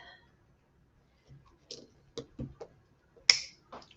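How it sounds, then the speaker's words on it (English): Zip ties being snipped on a tulip bouquet wreath craft, several sharp isolated clicks and snaps spaced irregularly, close and fairly quiet, with one louder crisp snap. "Clip our zip ties."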